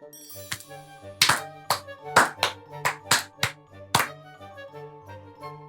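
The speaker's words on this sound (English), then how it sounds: "I think he deserves a round of applause for it." A few scattered hand claps at a tabletop Dungeons & Dragons game, sharp separate slaps over a faint musical backdrop, close and moderately loud.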